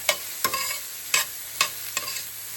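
Green vegetables with black pepper being sautéed in a pan for bibimbap, with five sharp stirring scrapes at a steady rhythm over a soft, continuous sizzle, close and fairly loud.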